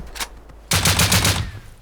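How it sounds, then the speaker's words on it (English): Gunfire in the survival video game Rust: one faint early shot, then a loud rapid burst of repeated shots lasting close to a second before fading. "They react to the sound of gunshots."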